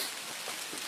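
Rain falling on a hiking trail, a brief soft hiss of steady drops pattering on the ground, faint and continuous.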